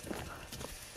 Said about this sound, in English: No, this is Ada's horse